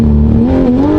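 A Porsche GT3 RS engine held on the pit speed limiter drones loudly and close as the throttle is pushed, a steady buzzing tone that rises slightly in pitch over a second.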